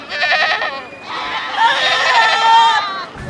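Goats and sheep bleat loudly and close at a weekly livestock auction market in Muriithi town, Kenya, several overlapping wavering calls over faint crowd babble.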